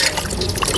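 Water splashes and trickles briefly close by as it is poured off freshly washed mangoes for pickle, a short wet burst with no voices.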